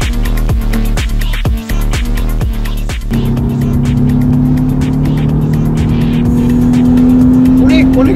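A Lexus IS250 accelerates hard, engine pulsing in rapid revs before settling into a loud, steady climbing drone, heard from inside with little else over it.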